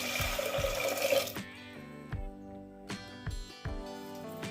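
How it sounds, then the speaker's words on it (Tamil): Water pours steadily into a pot of lentils for about a second, then stops, followed by a few soft knocks and clinks. "பருப்பு வேகிறதுக்கு தேவையான அளவு தண்ணி விட்டுக்கலாம்."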